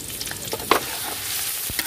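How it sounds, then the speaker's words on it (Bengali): Chopped onion drops into hot oil and is stirred, giving a continuous sizzle with scattered scraping and clinking of a utensil against the pan, close and moderately loud, nobody speaking. "পেঁয়াজ কুচি দিলাম,"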